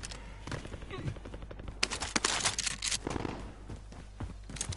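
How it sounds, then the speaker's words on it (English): Rapid bursts of gunfire in a video game, someone shooting at the player, crackle through a busy mix of close and distant shots with brief gaps, under occasional voices. "Oh, somebody shooting at me."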